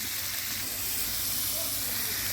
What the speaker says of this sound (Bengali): পেঁয়াজগুলো ভালো করে নেড়ে ছেড়ে ভেজে নেব